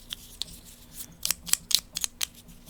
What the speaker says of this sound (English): we'll shuffle his deck up